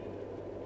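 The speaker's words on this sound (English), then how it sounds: "Train." Steady low rumble of a train, continuous and fairly faint, like rolling carriages heard from a distance with no voices.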